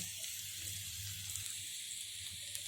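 Chopped carrot, capsicum, beans and cabbage fry in a pan for egg fried rice, giving a steady, close hiss of sizzling oil that carries on evenly throughout, with no talking.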